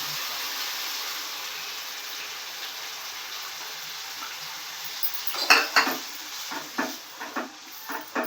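Cashew, melon seed and dry coconut paste stirred and fried in oil in a pan for a kaju paneer curry; a steady faint sizzle runs throughout, with clinking scrapes of a spoon against the pan in the last few seconds.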